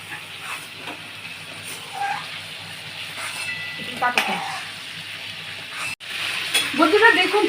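Fried prawns are scraped and lifted from a pan of hot mustard oil, the steady sizzle broken by spatula clinks, then a brief louder crackle near the end.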